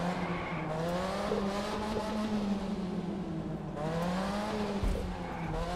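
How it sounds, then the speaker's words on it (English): A Mazda drift car in the racing video game The Crew 2 slides with continuous tire squeal over a steady, droning engine note, loud and unbroken throughout, with no voices. "this Mazda is the best drift car"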